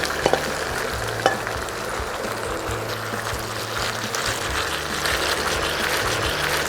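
Mushrooms sizzle in a frying pan with onions while being stirred, a steady bright hiss with a few soft scraping clicks, close and continuous with no talk.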